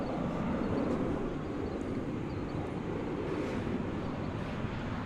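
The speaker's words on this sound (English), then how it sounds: "We're going to watch American Flight 1163 coming in from Boston" An American Airlines passenger jet arrives from Boston to land at DFW Airport on runway 18 right. It makes a faint, steady, distant rumble with wind noise and no voices.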